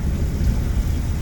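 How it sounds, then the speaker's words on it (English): A thunderstorm along Route 66 fills the clip with a dense, steady wash of rain and a deep low rumble of thunder, loud and continuous with no voices. "Unfortunately, it is raining and lightning and thundering"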